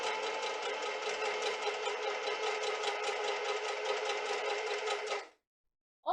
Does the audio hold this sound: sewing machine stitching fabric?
yes